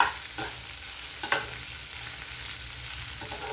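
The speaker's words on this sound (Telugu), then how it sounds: "దొండకాయలు వేగడానికి టైం పడుతుందండి. ఓపికగా వేగించుకోవాలి." Ivy gourd (dondakaya) frying in a pan, a quiet steady sizzle with a few sharp scraping stirs of a spatula, close and faint, no talking.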